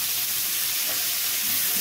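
Egg and green peas fry in a pan for fried rice, giving a steady, close sizzling hiss that holds evenly throughout with no speech.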